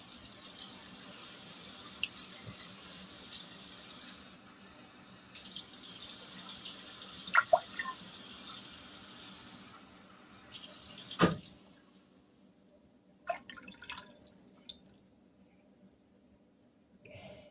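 Tap water runs steadily into a measuring cup in a kitchen, a soft continuous hiss broken by brief clinks and handling noises, then stopping before a few faint drips and taps.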